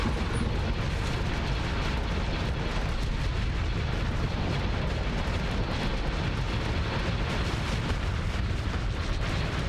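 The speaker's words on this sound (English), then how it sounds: "The ion cannon just shut these things down." Sci-fi space battle in the game Starsector, with ion cannon fire and explosions forming a dense, continuous roar of blasts and rumbling bursts, loud and unbroken throughout.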